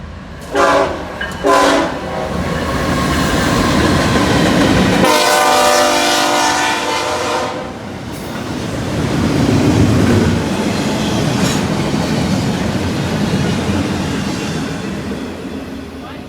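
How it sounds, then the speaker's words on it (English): An intermodal freight train led by a BNSF GEVO with a Union Pacific SD70 behind it sounds a few short horn blasts, then the locomotives rumble past loudly, followed by wheels clattering over the rails as the cars roll by. "we caught a intermodal train"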